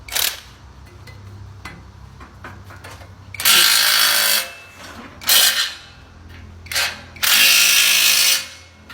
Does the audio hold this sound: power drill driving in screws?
yes